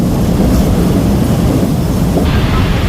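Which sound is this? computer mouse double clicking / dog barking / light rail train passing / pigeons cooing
light rail train passing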